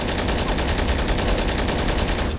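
Heavy M2HB machine gun fire from the Call to Arms video game hammers away without pause in a dense, loud, evenly paced burst that cuts off sharply at the very end.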